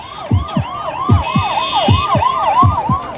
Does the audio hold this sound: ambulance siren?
yes